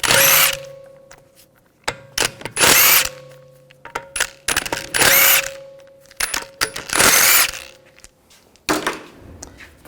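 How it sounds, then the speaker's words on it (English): Bursts of a power impact tool loosening lug bolts on a Volkswagen Jetta TDI wagon wheel with a 17mm socket, several loud whirring runs separated by short pauses and ratcheting clicks, close up with no talking. "Using a 17mm socket, we're going to take the lug bolts out."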